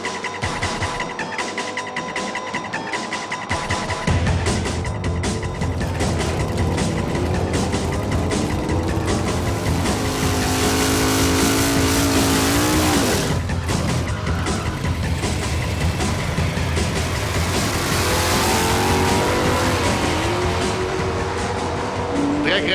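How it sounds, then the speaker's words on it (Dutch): Drag racing cars at a Dutch national championship in Drachten roar loudly and continuously, engines rising in pitch as they accelerate, with crowd and commentary-like voices mixed under the din. "deze bijzondere auto's maken je flink wat leven"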